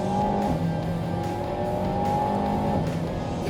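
An Alpine car with a 1.8-litre engine drifts through fields, its engine droning loud and close in a sustained, slightly wavering tone with rough tire and surface noise underneath.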